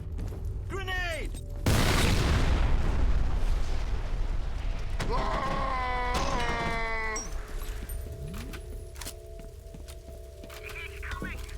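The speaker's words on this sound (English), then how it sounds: "Grenade." A grenade detonates with a heavy, sudden boom in the shooter F.E.A.R., followed by sustained rumbling combat noise and shouting soldier voices.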